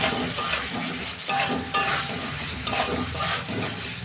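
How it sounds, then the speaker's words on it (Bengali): Cauliflower tossed into a hot frying pan with pomfret fish, a steady loud sizzle with stirring scrapes and a few bursts of crackle throughout. "কপিটাও দিয়ে দিচ্ছি।"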